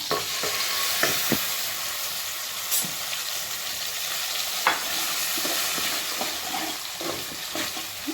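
Ground tomato paste sizzles and crackles steadily in hot oil while being stirred for a viraal meen kulambu fish curry, with a continuous close hiss and scattered scraping clicks and no voices.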